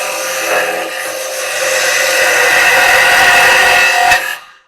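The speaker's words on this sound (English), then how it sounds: "Because I'm here, I'm actually getting a peeling cut." A carbide chisel takes a peeling cut on wood spinning on a lathe, a steady close hiss and rasp that builds gradually, then cuts off as the tool lifts away.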